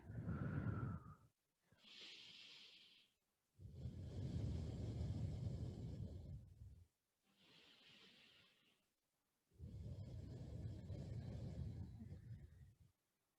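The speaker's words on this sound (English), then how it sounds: "just do 2 more full breathing cycles here" Slow, full yoga breaths, each long airy inhale and exhale close to the microphone, about three cycles separated by short pauses of near silence.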